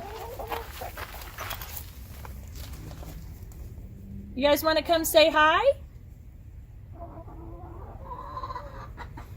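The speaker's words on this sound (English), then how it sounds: "the chickens, they're all very vocal because they want to come out" Several backyard chickens, shut in and wanting out, break into a burst of loud, close clucking and squawking, with a person speaking softly before and after.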